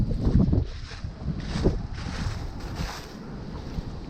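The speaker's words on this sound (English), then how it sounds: "Sorry it's a little windy out here today" Gusty wind buffets the microphone outdoors in northern New Jersey beside a Ram truck, rumbling low and loud at first, then easing into uneven, fluttering bursts.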